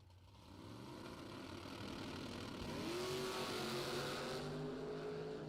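Drag racing cars launch from the start at a bracket racing event, a Mustang in the right lane, their engines rising together into a loud, building roar that grows nearer and swells in pitch.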